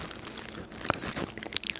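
Popping candy beads in Coca-Cola flavored Oreo filling crackle in fast, faint, irregular snaps up close, with a little chewing crunch and no voice.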